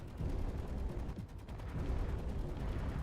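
Turret gunfire in the space game Space Engineers, a dense rumbling barrage of rapid low thuds and blasts, steady and moderately distant, with no talking.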